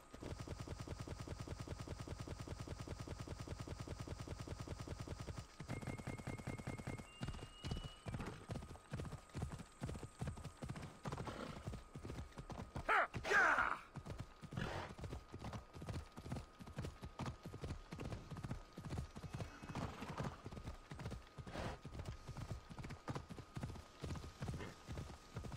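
Horse hooves in Assassin's Creed Odyssey clip-clop in a steady, rapid galloping rhythm throughout, loud and close, with a brief whinny and game music underneath.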